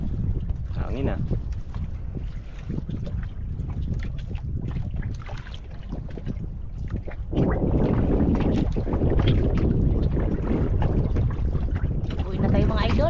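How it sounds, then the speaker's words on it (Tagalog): Strong wind buffets a boat at sea with a steady, rushing roar that grows louder about halfway through. People talk faintly underneath. "Yan, hangin na, makanervyos."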